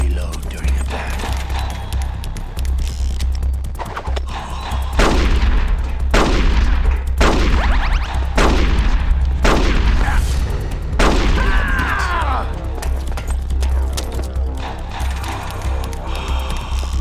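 Gunfire during a boss fight against Revolver Ocelot in the video game Metal Gear Solid: The Twin Snakes: a run of about six sharp, loud shots spaced roughly a second apart, set over steady game background sound.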